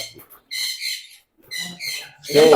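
Several caged exotic birds chirp and squeak in short bursts with pauses between, close by, the last call rising loud and shrill.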